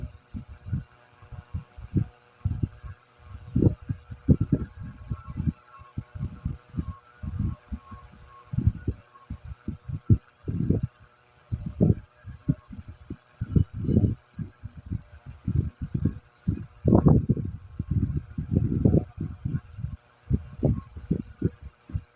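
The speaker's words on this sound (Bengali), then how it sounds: "আমি আমার মেশিনে ব্যাক স্টিচ কীভাবে দিই আপনারা অবশ্যই বিষয়টি লক্ষ্য রাখবেন।" Domestic sewing machine back-stitching and double-stitching the sleeve of a size 36 blouse, giving uneven bursts of low thumping needle strokes that start and stop repeatedly, fairly close and moderately loud, with no talking.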